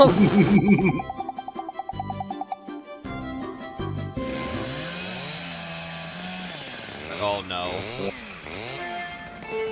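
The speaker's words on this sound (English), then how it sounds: "Everyone gets a chainsaw." A chainsaw starts up and runs, revving and bogging in shifting pitches after some clunking handling noises, with people talking and exclaiming over it.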